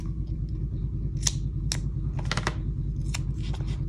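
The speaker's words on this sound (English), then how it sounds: "We're just going to cut a little piece off." Scissors snip a small piece off craft material, a few separate crisp cuts over a steady low hum, close by and moderately loud, with no talking.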